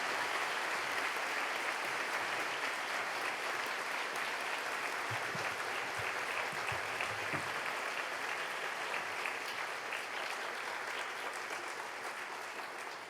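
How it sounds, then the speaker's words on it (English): A large audience at a university fall convocation gives a speaker sustained, dense applause that stays loud and even from start to finish. "Let's give her another round of applause."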